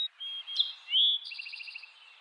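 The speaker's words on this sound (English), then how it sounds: "We got a bird landed over here on the bird feeder." A small bird at a backyard bird feeder gives a few high, thin chirps and a short trilling call, fairly faint and close, with no voices.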